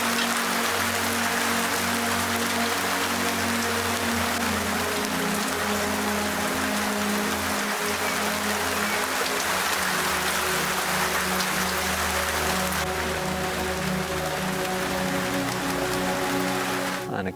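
Heavy rain pours down steadily on an off-grid homestead, a dense, unbroken hiss that stays loud for the whole stretch with a low rumble beneath it and no voices.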